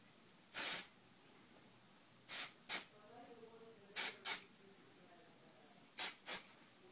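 TRESemme dry shampoo aerosol sprays onto hair in seven short hissing bursts, a single one followed by three quick pairs, close and crisp against near silence.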